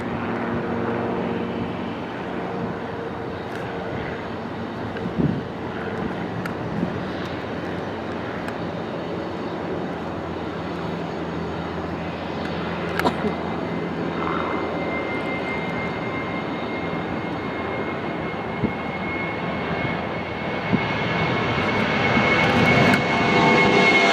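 Southwest airliner jet engines at Santa Ana's SNA airport, a steady broadband roar holding on the runway, fairly loud and continuous with slight swelling toward the end.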